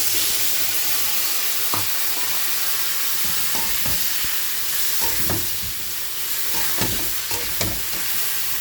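Steady sizzling of a tomato and chili paste frying in a pan, with scattered scrapes and clinks of a spatula stirring throughout, close and fairly loud.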